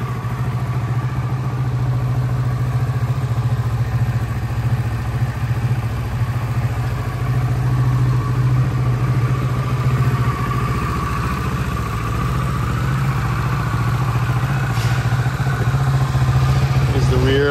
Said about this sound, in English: So let's turn her on. Get a sound of the exhaust.